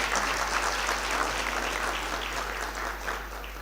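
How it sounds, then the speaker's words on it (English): An audience at a university humanities spring lecture gives sustained applause after the Executive Dean's address, steady clapping at moderate volume that slowly fades toward the end. "that address by the Executive Dean deserves another round of applause"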